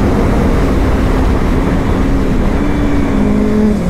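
Loud, continuous rumble of vehicles moving close by, a dense roar of engines and tyres without pause, with no voices.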